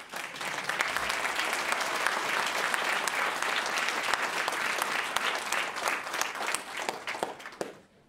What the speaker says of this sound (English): I'd like to give Sarah a special round of applause.